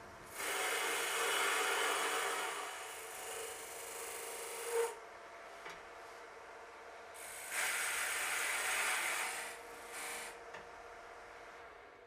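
A wood lathe turns a blank as a TurnMaster tool cuts a tenon, giving two long, steady rasping cutting passes separated by a quieter pause with small knocks, close and alone.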